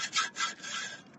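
Close, rhythmic rasping strokes of sanding a metal exhaust pipe on an 8th-gen Honda Civic in a parking lot, three or four back-and-forth passes in quick succession.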